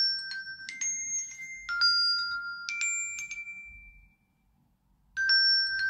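A phone ringtone plays bright electronic two-tone chimes in a repeating pattern, pausing briefly before the ringing starts again.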